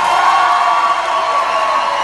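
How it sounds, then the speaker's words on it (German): Crowd noise from the left half of an open-air Schlager festival audience in Osterode am Harz, a steady dense wash of clapping and cheering with whoops, loud and sustained throughout without a break. "Bitte zuerst mal nur diese Seite applaudieren."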